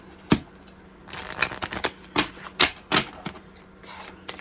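A deck of romance angel oracle cards is shuffled by hand close up, producing a sharp snap followed by bursts of papery riffling and slaps in an uneven rhythm, with no talking.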